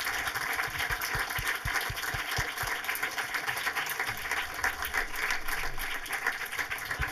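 Audience applause at a film talk event, a steady wash of many hands clapping from a seated crowd, moderately loud with some nearer individual claps early on.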